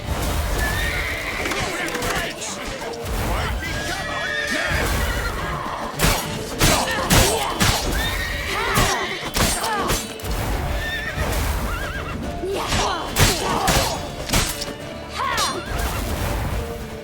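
Horses whinny repeatedly over galloping hoofbeats and clattering impacts in The Witcher 3: Wild Hunt, with voices shouting through the busy, loud scene.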